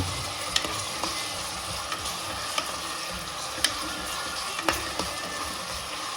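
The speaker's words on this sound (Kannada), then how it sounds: "ಇದು ಚೆನ್ನಾಗಿ ಹಸಿ ವಾಸನೆ ಹೋಗೋವರೆಗೂ ಅದನ್ನು ಫ್ರೈ ಮಾಡೋಣ" Homemade paste fries in a pan for ghee rice with a steady, moderate sizzle, broken by sharp spoon scrapes and taps against the pan every second or so. No talking is heard.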